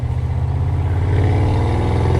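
A powerful high-torque sports car engine revs loudly up close, a throaty mechanical growl climbing steadily in pitch over a couple of seconds with no talking.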